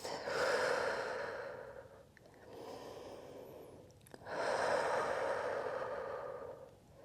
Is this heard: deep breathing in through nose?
yes